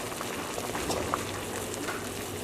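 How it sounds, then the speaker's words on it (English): Water boils in a pot on a stovetop with a dense, even bubbling hiss that stays steady and close throughout, with a few slightly louder pops and no talking. "now that the water is boiling"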